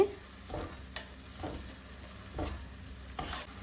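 Soya chunk fry with spices being stirred in a pan: a few separate scraping strokes, close and moderately quiet, with a low sizzle underneath.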